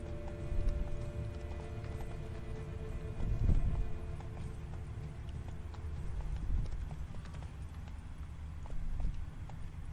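Roach, a horse in The Witcher 3, gallops with steady hoof clip-clops over a low rumbling game soundscape, with a brief heavier thump midway and a faint whinny-like tone.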